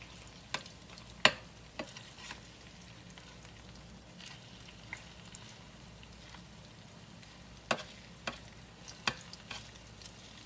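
Onion fritters fry in a pan with a quiet, steady sizzle, broken by a few sharp ticks and pops from spitting oil.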